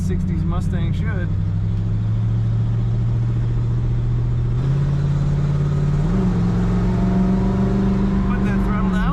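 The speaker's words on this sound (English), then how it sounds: "This car has a nice rumble coming from the exhaust" A 1965 Ford Mustang convertible accelerating on the road, its exhaust giving a steady low rumble that climbs in pitch twice as the transmission kicks down, with someone talking over it throughout.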